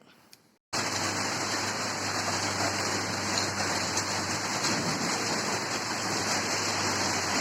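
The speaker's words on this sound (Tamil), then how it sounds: "சரியான மழையாக தான் இருக்குது" Heavy rain falls in a garden with rose plants, a dense, steady roar that begins abruptly after a brief quiet start and continues unbroken.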